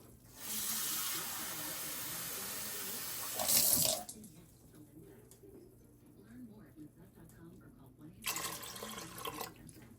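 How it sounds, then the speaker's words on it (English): Water runs from a tap into an Instant Pot in two bursts, a long steady pour and then a shorter one, with quiet kitchen sounds and birds cooing in between. "we'll get about 2 cups of water"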